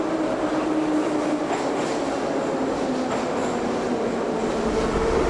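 A Moscow metro train runs through a deep underground tunnel, a loud continuous roar of wheels and rushing air with faint rhythmic rail clatter and a low hum, steady throughout with no voices.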